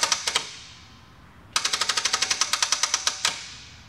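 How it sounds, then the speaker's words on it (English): Starter on a Triumph TR4 race car with a flat battery clicking: a few quick clicks, then a long rapid run of sharp ticking clicks, close and loud, with no engine catching. "The starter just clicked,"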